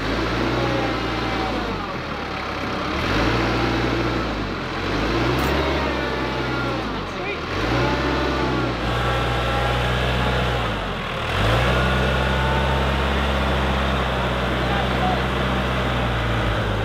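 A tractor engine labors while pulling a chicken coop shed, its low mid-range drone rising and dipping in repeated revving surges, loud and close, with people talking over it.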